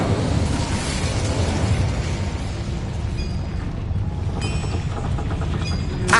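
A fire spell cast in the Hogwarts Legacy video game bursts out as a loud, dense roaring blast, followed by a steady crackling rumble with faint higher tones for about six seconds.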